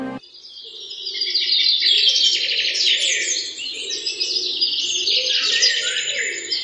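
A cartoon parrot chirps and twitters in a steady, bright stream of high calls that runs almost without pause, alone and fairly close.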